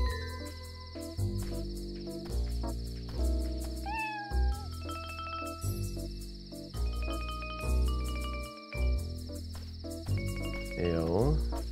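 Cat meowing in the video game Dave the Diver, a few short meows over busy game music and effects, with a person talking intermittently in the background.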